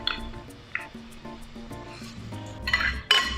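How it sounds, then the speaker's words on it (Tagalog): Drained glutinous rice goes into a pan of sautéing onions with soft clinks and scrapes of a utensil against the pan. A brighter, louder sizzling rattle swells near the end. The sound is close, with no talking. "I-drain muna natin yung malagkit, tapos ilagay natin dito sa ginigisa nating sibuyas."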